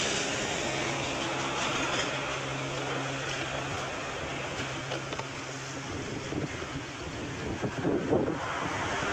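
Strong wind blows outdoors in a village, buffeting the microphone with a loud, continuous rumbling roar that gusts harder toward the end.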